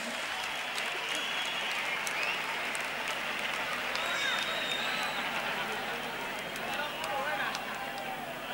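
A large concert audience applauds a singer: dense, steady clapping and crowd noise fill the hall at a constant level for several seconds, close and loud throughout.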